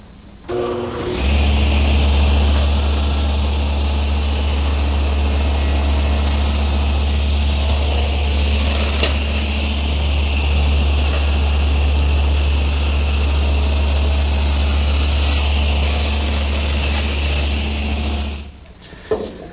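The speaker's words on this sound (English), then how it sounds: "I want to make this shoulder cut at my table saw" A table saw set up with a guide block cuts a shoulder in a piece of wood for a butcher block. Its loud, steady motor drone spins up, holds evenly for about seventeen seconds, then winds down.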